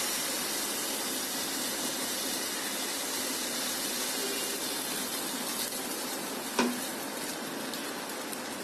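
Semolina batter sizzles steadily in hot oil, a dense, even crackle that stays close and constant with one small clink partway through, and no talking.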